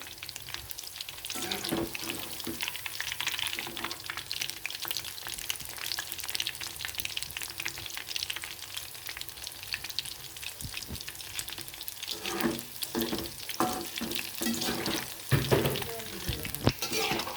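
Sliced mushrooms for a street-style Tamil kaalan fry sizzle and crackle steadily in a hot pan, with occasional scraping stirs and sharper spattering bursts toward the end, close and continuous with no talking.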